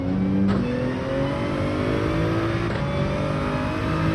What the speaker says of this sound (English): Listen, this Supra is slugging.